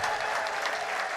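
A church congregation claps and cheers in praise of the Lord after a healing testimony, a dense, steady burst of applause filling the whole moment with no pause.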